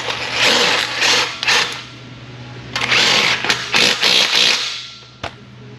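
An impact gun runs down bolts on a car subframe in loud, rattling bursts, two long stretches of rapid hammering separated by a pause, then a final short blip.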